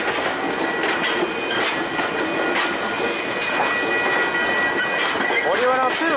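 VIA Rail 87 passenger train rolling past close by, a steady rumble of wheels with rhythmic clicking over rail joints and squealing toward the end, a voice speaking briefly over it.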